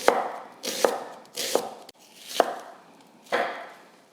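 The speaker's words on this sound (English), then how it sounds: "So all I'm gonna do is cut these onions really thinly." A knife thinly slices a large homegrown red onion on a cutting board in five distinct, crisp strokes spaced roughly evenly, each a close, dry swish ending in a soft knock on the board.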